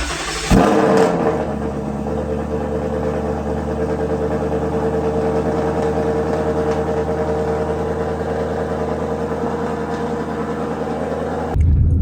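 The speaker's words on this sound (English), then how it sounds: "here's a little cold start for you guys" A car engine cold-starts with a short cranking burst, then settles into a steady, loud, fast idle that drones on evenly before a brief rise at the end; no talking.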